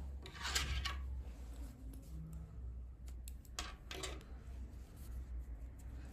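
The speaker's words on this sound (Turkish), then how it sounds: "İpliği kesiyorum." Scissors snip through crochet yarn at the end of a finished skirt edging, giving a few soft, close rasping cuts over a quiet low background hum, with no voices.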